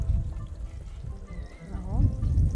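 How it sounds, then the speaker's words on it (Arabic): Water is poured into a pan while shawarma fatteh is being cooked in a home kitchen, a short trickling pour beneath women chatting nearby. "بعدين احط ميه شويه ميه"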